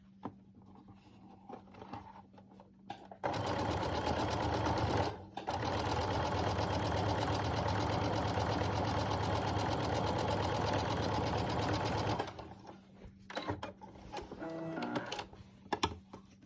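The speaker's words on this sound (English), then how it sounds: "you fold it over a little, 1/4 inch, and you sew along that edge" A sewing machine stitches along the folded quarter-inch edge of a fabric face mask, its motor whirring loudly and steadily with a brief pause partway through. Quieter handling noises come before and after the run, and there is no talking.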